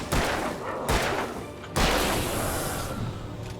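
Pistol fire in the video game Alan Wake, three heavy booming shots in a steady sequence with a dense reverberant game soundscape between them.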